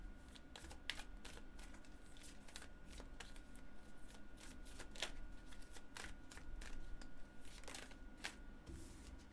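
Tarot cards are shuffled in repeated quick riffling bursts, crisp and close, with no talking.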